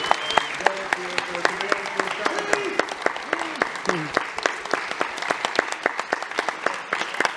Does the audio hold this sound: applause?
yes